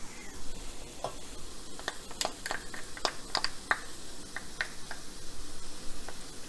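Meat and marinara sauce stirred together in a pan during cooking for zucchini boats, with scattered scraping clicks of the utensil over a soft, steady sizzle, close and fairly quiet, no talking.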